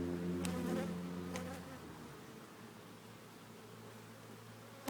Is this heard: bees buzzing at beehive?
yes